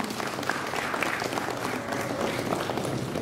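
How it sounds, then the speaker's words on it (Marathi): Loud, sustained applause from an audience at a school gathering, following a talk on meditation and success; dense, continuous clapping fills the whole stretch with no pauses. "जोरदार टाळ्या वाजवूया"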